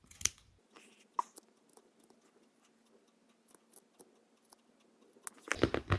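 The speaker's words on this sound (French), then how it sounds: "Je sens que c'est effectivement plus épais sous mes ciseaux, mais mes petits ciseaux coupent bien" Small scissors snipping through a thick jacquard-knit steek, a series of sharp, quiet clicks and crunchy cuts spaced irregularly against a near-silent background, with louder handling noise at the start and end.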